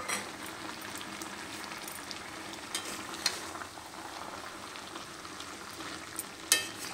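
Cabbage cooks in a pan with mustard paste stirred in, giving a soft, low sizzle with occasional scraping clicks of a spoon, quiet and steady throughout.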